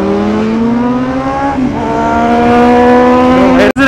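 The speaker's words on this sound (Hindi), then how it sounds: "डोमिनर हार्ले 450 और 390 के बीच भाई फुल रेस चल रही है दोनों के बीच" Two motorcycles, a Bajaj Dominar and a Harley 450 alongside a KTM Duke 390, race at full throttle on an open road, their engines droning steadily and climbing in pitch, with wind rush and a brief dropout near the end.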